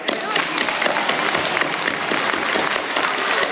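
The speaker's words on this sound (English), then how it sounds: "Really warm applause for them again" Warm audience applause for young pianists at a piano master class, dense and sustained clapping filling the whole stretch at a loud, even level.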